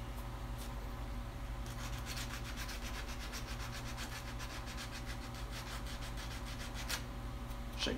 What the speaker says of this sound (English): Oh, still needs more sanding.